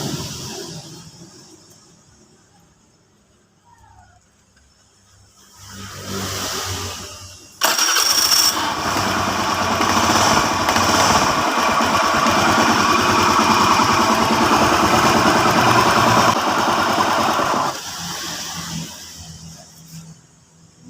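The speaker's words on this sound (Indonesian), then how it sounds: "sekarang untuk suara yang dap dap dap itu kita hidupin, kita RPM kita naikkan" A car engine with a knocking "dak dak" noise coming from inside the crankcase is started, then revved to a loud, steady roar that holds for about ten seconds before easing back to idle, with no talking.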